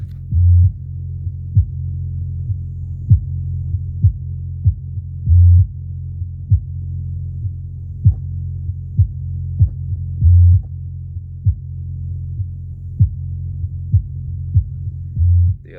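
Deep bass test tones play through a speaker, a steady low hum and throbbing broken by regular pulses and thumps recurring every few seconds, loud and alone.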